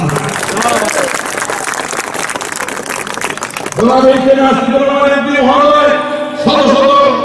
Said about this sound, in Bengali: একসাথে একটা করতালির মাধ্যমে ধন্যবাদ